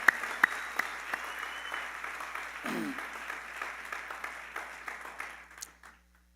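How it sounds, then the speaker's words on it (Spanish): A church congregation claps in applause during a sermon, a moderately quiet, scattered patter with a few sharper claps that thins out and fades to silence near the end. "Podemos dar un aplauso a la palabra de Dios esta mañana"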